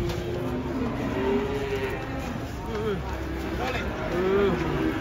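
An agitated giant cow with a broken leg mooing in low, drawn-out calls while being unloaded from a truck amid a busy outdoor scene, with people talking and background noise throughout.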